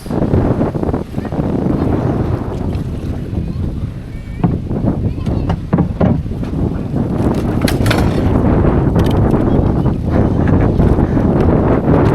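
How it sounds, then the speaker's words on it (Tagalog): Strong wind blows across the sea at night on a fishing trip to a payaw, roaring steadily and buffeting the microphone. Boat and water noise run under it, and people talk throughout. "ang hangin eh kakasang hangin"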